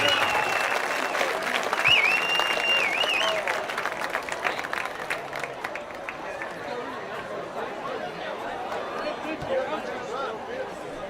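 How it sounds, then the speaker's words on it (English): Crowd at a high school football game applauding steadily, a dense sustained clapping from the stands with cheers and chatter mixed in, gradually easing but continuing throughout. "giving these unsung heroes of BTCS a big round of applause to show our appreciation"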